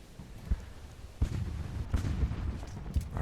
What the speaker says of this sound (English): we can hear the cannons opening up